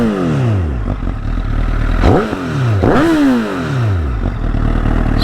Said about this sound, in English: Let's listen to that Leo Vince exhaust.